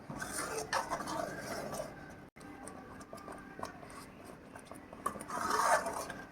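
A spoon stirs buttermilk kulambu in a cooking pot, making faint scraping and clinking against the metal with soft rubbing swirls, close and low in level.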